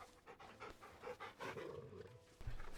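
A dog panting in Final Fantasy XVI, quick rhythmic breaths repeating over a few seconds, close and fairly quiet, with no voices.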